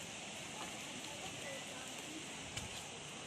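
Steady rain falls continuously, a dense even hiss of drops on surfaces with one small knock partway through and no voices.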